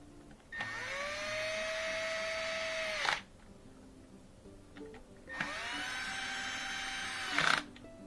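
A power screwdriver drives screws into a Miele dishwasher during a repair, two whirring runs of about two and a half seconds each, close by and separated by a pause.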